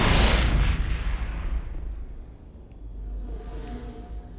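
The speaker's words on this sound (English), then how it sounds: "I learned how to throw a grenade, folks." A thrown grenade blows up in a retro video game with a loud, booming blast that rolls off into a long, fading rumble, then a low steady hum of the game's background noise, no talking.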